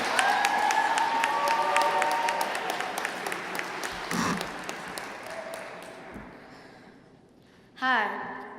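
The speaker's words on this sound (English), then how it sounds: "Can I get another round of applause for Keem" Sustained audience applause at a 2016 youth conference, dense clapping with a voice over it early on, fading out over several seconds before a short louder burst near the end.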